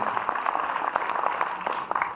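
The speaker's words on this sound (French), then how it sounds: "Vous pouvez vous applaudir." Audience at a sold-out opening ceremony of the Cinéland international short film festival in Brittany applauds steadily, a dense wash of clapping that holds throughout.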